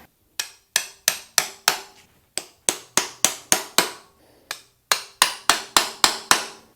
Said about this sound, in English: I'm just gonna stick a chisel down in each one of these to help spread them